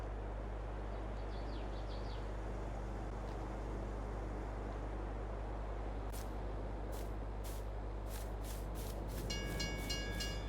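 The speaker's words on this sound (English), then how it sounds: "The bloody train's coming." A train pulls into the station on a Westbridge Hills farm map in Farming Simulator 22, heard as a steady low rumble and rolling railcar noise with a few sharp brake-like bursts toward the end.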